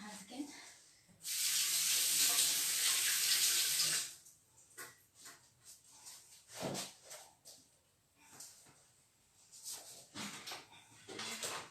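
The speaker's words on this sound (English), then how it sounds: "just wash my hands again" A kitchen tap runs while hands are washed during coconut snowball making, a steady loud stream of water for several seconds, then shut off, followed by a person talking.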